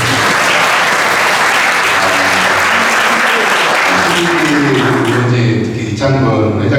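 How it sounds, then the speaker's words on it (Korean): Sustained, loud applause from a large audience at a Korean alumni gathering, with dense clapping that continues steadily throughout, a few voices mixing in toward the end. "박수 한번 주세요."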